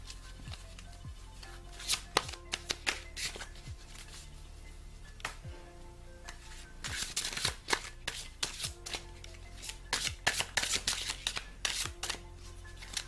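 Oracle cards are shuffled by hand in a quiet room, producing repeated crisp riffling and flicking bursts, a denser run of shuffling midway and again near the end, close and clear, with no speech.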